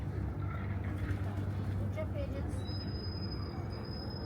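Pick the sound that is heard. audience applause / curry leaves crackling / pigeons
pigeons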